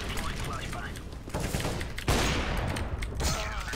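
Rapid bursts of gunfire from the video game Counter-Strike: Global Offensive crackle loudly and densely for a few seconds, with heavier shots near the end and players talking over them.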